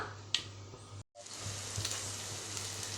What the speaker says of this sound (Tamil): சோம்பு பொரிஞ்ச உடனே நம்ம தட்டி வச்ச இஞ்சி பூண்டு அதில் ஆட் பண்ணி கலந்துக்கலாம்